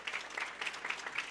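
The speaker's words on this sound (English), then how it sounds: "Please give Coach Reese a round of applause as he takes a photo with superintendent and board members." An audience applauds at a school board meeting, a lively burst of many hands clapping in a continuous, slightly uneven patter that carries on without letting up.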